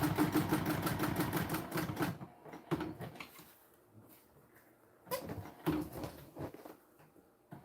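A sewing machine stitches Peltex stabilizer into a seam allowance in quick rattling bursts, with a short pause between runs of stitching.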